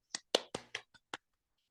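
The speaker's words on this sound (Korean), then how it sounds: "다시 한번 큰 박수" A handful of separate, crisp hand claps ring out as brief applause for a lecturer during a live online talk, about six sharp claps close by, followed by silence.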